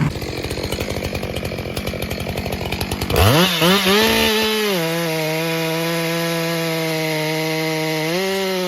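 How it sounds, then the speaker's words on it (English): A chainsaw rasps loudly through a tree trunk with rapid chattering, then the cut ends and the engine revs and settles into a steady high whine. "the chainsaw roars to life."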